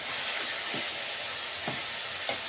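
Marinated coriander chicken frying in a pan gives a broad, even hiss of hot oil, with a few faint stirring scrapes under it and no voices.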